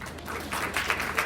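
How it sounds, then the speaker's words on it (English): A crowd at a business conference gives a round of applause, a dense, steady patter of clapping close by that swells slightly over about a second. "Mr. Bronner, everybody please give a round of applause."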